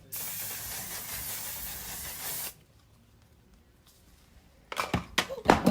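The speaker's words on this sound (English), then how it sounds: "I'm gonna do my setting spray." Makeup setting spray goes on in one long steady hiss of about two seconds, close and fairly loud. Quiet follows, then a person starts talking.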